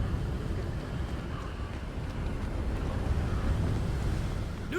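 Steady, broadband wind rushing through an outdoor area in the video game Hogwarts Legacy, a continuous low roar with no breaks, heard alone.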